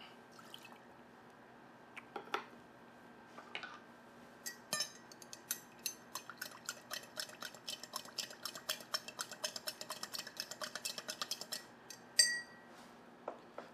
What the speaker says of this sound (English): So now I'm going to stir it to chill.